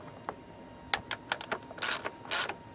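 Ratcheting clicks and plastic clatter as the air filter housing on a 2004 Honda Odyssey EX is snugged down over its rubber-gasketed filter, several short bursts close by with no talk.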